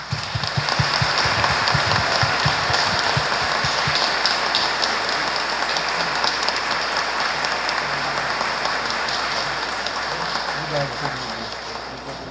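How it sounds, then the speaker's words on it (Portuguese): A church congregation applauds during the feast of Saint John the Baptist in Queluz, São Paulo, a dense, sustained clapping that fills the room before slowly thinning out, with a voice briefly audible at the start. "a nossa salva de palmas"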